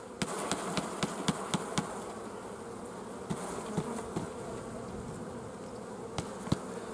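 Honeybees hum steadily around a depopulated hive nucleus with a young mated queen while new bees emerge, a close dense buzz broken by occasional light clicks and taps.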